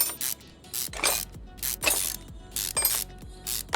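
Ratcheting wrench bursts unscrew bolts on a Nissan Fairlady engine in Car Mechanic Simulator 2021, several quick rattling clicks in regular spurts separated by short pauses, loud and close.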